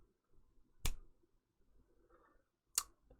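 Two finger snaps, about two seconds apart, come from behind a cardioid condenser microphone. Each is quieter and duller than a snap from the front, over faint room noise.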